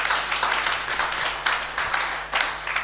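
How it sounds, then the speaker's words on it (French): A church congregation applauding, a steady, moderately loud wash of many hands clapping that continues throughout with slight swells. "Est-ce qu'on peut applaudir même pour la parole?"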